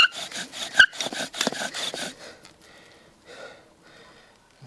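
A bow drill spindle saws back and forth on damp wood in a rapid series of rough, rasping strokes, loud and close at first, then slowing to quieter scattered rubs.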